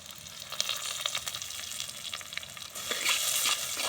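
Steady crackling sizzle of onions and curry leaves frying in hot oil, with occasional stirring scrapes and pops; no voices.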